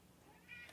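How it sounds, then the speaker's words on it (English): A cat gives a single short meow, faint and close, rising briefly near the end against a low background hum during a morning hobby stream. "Margaret said, meow"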